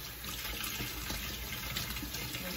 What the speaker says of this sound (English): So all I do is pull them all out and rinse them off really good.